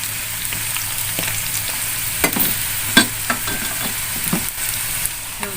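Seasoned jengkol sizzles steadily in a pan after water is added, with close spoon-scraping clicks and knocks against the pan as it is stirred, and no voices.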